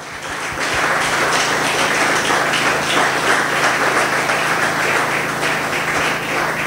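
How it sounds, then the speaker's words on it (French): A church congregation applauds after a sermon, with dense sustained clapping from many hands filling the room at steady loudness from start to finish. "Est-ce qu'on peut acclamer pour la parole de Dieu?"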